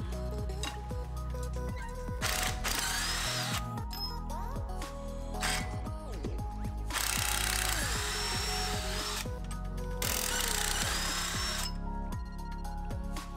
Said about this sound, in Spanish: al final tirando también de llave de impacto pudimos sacarlo